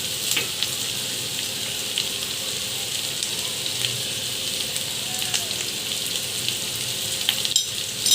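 Chopped green chilies sizzle in restaurant-style fried rice in a hot pan, a steady close crackling hiss that runs the whole time without pause or speech.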